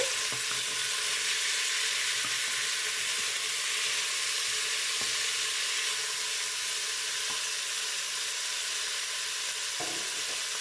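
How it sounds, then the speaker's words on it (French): Onions frying and browning in a Cookeo multicooker, giving a steady, dense sizzle throughout with a few faint clicks and no talking. "Et maintenant, j'ajoute mes oignons. On va les faire dorer un peu."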